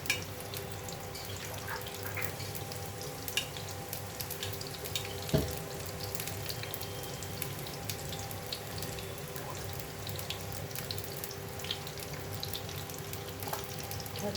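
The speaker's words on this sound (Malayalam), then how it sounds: "ഇത് കടുക് പൊട്ടി തുടങ്ങി." Mustard seeds splutter in hot oil in a pan, with scattered sharp pops and crackles over a steady frying sizzle and one louder crack partway through.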